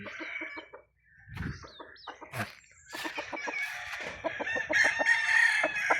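Roosters crow repeatedly in long, rising calls while hens cluck nearby, the birds fairly close and overlapping in a lively farmyard chorus.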